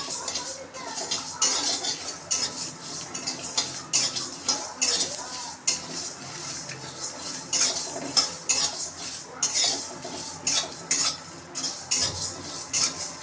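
Peppercorns and spices dry-roast in a pan, stirred with a metal utensil that scrapes and clinks against the pan in quick, repeated strokes, fairly close and continuous with only a faint sizzle.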